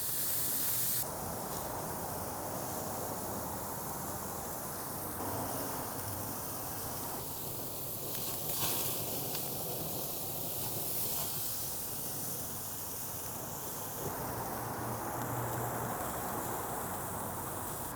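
Bacon and shrimp sizzle on an open, hot grill, a steady broadband hiss that holds constant throughout with small shifts in texture, close and moderately loud.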